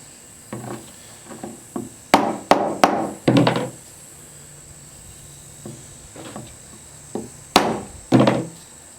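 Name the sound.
driving belt axe head onto handle on bench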